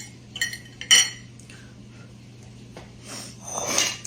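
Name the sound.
spoon clinking against dishes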